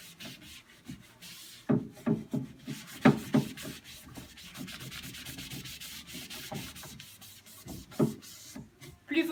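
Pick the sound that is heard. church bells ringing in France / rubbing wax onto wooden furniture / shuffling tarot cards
rubbing wax onto wooden furniture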